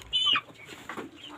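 Birds cluck briefly at close range, with a short sharp call at the start followed by softer clucking and background noise.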